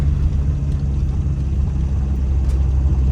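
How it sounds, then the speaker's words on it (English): A RAM 50 pickup truck on a test drive, heard as a steady low engine rumble and road drone from inside the cab, even and moderately loud with no voices. "I'm gonna go for a little test drive though, see how it feels."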